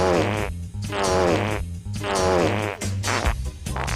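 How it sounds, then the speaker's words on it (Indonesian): A loud, buzzy fart, four long blasts in a row with short gaps between them, with no voices and nothing else around it. "ya benar, kentut"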